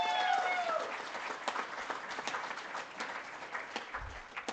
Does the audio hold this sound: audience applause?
yes